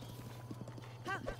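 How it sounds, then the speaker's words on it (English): Horse hooves clip-clopping in the video game The Legend of Zelda: Breath of the Wild, a few soft, quick hoof taps under a steady low hum with a brief voice near the end. "You're a good horse."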